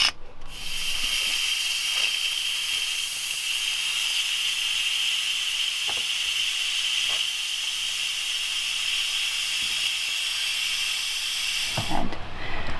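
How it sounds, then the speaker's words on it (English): An Instant Pot releases pressure in a loud, continuous steady hiss of escaping steam lasting over ten seconds, with faint clicks underneath, then cutting off abruptly near the end. "now I'm going to release the rest of the pressure and steam"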